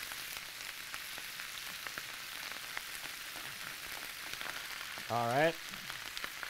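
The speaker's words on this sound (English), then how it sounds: "And it should be sizzling, ladies and gentlemen." Steady crackling sizzle of raw cabbage and sauerkraut frying in a pan, constant and close, with someone briefly speaking near the end.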